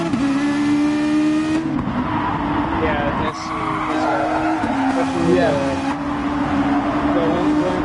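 Toyota FT-1 Gr.3 race cars in a racing video game at Autopolis, engines revving and tires squealing through corners, loud and continuous, with people talking over the game sound.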